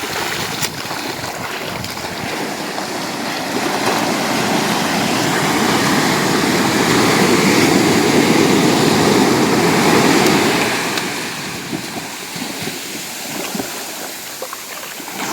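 Surf rolling onto the shore at Nivati beach on the Konkan coast, a broad steady wash that swells louder in the middle and eases off toward the end, with no voices.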